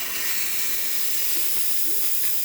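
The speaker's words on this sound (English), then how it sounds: "let's test the steam." Strong, steady hiss of steam blasting from the steam wand of a La Pavoni lever espresso machine after a tune-up, loud and continuous for the whole moment with no talk.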